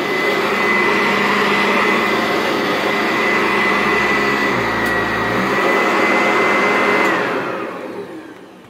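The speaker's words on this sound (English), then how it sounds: "with the brute airflow of these older style Eurekas, it just picks the carpet up and clamps to it." An older Eureka upright with a Vibra Groomer 2 power nozzle runs loud and steady with a strong airflow roar and a high motor whine, clamping onto carpet, then winds down near the end.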